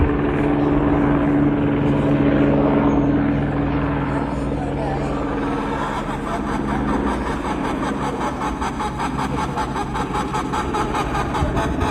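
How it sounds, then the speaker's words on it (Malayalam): An Air Dynasty helicopter that crashed while landing in Nepal's Khotang district: a loud, continuous rotor and engine drone with a steady beating chop, under voices. "ലാൻഡിംഗിനിടെ ഹെലികോപ്റ്റർ തകർന്നു."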